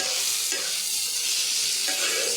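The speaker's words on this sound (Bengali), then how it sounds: "সব কিছু ভালোভাবে নাড়াচাড়া করে দিলাম।" Potatoes with coriander powder, cumin and salt stirred in a hot pan, a loud steady sizzle overlaid by scraping spatula strokes, continuous and close.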